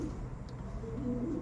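Racing pigeon cooing softly in a low, murmuring run, close by and alone, with steady low background hum underneath.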